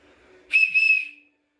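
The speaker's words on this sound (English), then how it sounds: "like a keychain wood whistle." A small wooden keychain whistle gives one bright, shrill blast lasting under a second, loud and close, with a faint hum before it and no talking.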